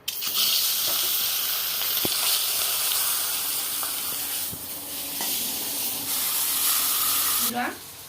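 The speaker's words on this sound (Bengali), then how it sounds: "মাছটা ভালোভাবে ভাজা হয়ে গেছে," Rohu fish head frying in hot oil in a wok gives a loud, continuous hiss and sizzle throughout, with a few faint clicks and a brief shift near the end.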